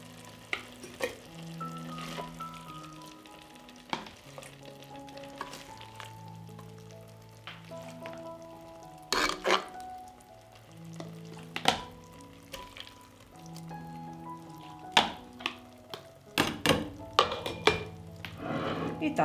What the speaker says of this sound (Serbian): I ovako vrelu papriku sipam u sterilisane tegle.